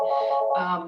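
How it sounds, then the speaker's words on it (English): A mobile phone rings at an outdoor recreation talk in the Berkshires: a loud, close, one-second electronic ringtone in two tonal bursts, with no voices. "Sorry about my phone. I know there's a way to turn it off,"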